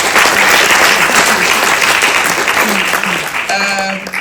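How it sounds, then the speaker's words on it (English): A festival crowd in London gives loud, sustained applause, and a voice briefly rises over the clapping near the end. "So please give them a round of applause."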